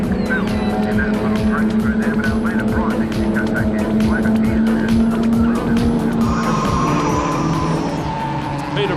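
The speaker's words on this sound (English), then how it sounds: "A big brake lock up there for Gricey as he comes into the picture" An HQ-class race car locks its brakes on the Hidden Valley circuit, its tires skidding and squealing under a dense roar of racing engines, while a commentator talks over the action.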